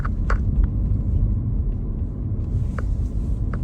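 Inside a moving car, a steady low engine and road rumble fills the cabin without pause. A few faint clicks and taps rise above the drone.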